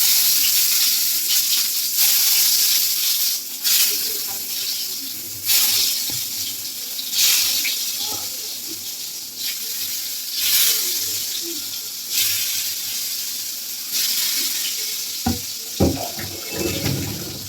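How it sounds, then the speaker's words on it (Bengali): Eggplant pieces fry in hot oil with a continuous, hissing sizzle. Bursts of louder spattering crackle repeatedly as pieces go in or are turned, and no one speaks. "তেলটা গরম হয়ে গেছে। এবার আমরা বেগুনগুলোকে ভেজে নেব।"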